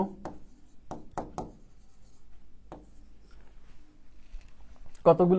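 A teacher's marker or chalk taps and scratches on a classroom board in short irregular strokes, with a voice speaking at the very end.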